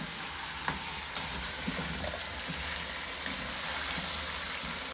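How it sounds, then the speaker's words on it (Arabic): Garlic and ginger sauté with vegetables in a hot pan, giving a dense, steady sizzle that holds at an even level throughout with faint stirring underneath. "ثوم وزنجبيل ونشوح لمدة 5 دقائق"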